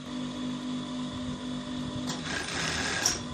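A sewing machine runs steadily while stitching a half-inch seam on fabric for an agbada, a low, even mechanical hum that grows brighter and busier toward the end.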